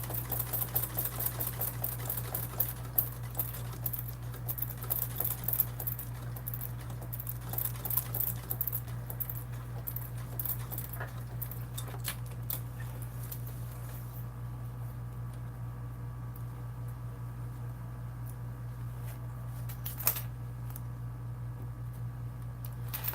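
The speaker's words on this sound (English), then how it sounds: "So I'm just gonna sew at it from the opposite end" Sewing machine stitching a vinyl bag, its needle running in a fast rapid patter for long stretches with brief pauses, over a constant low electrical hum, close and moderately loud.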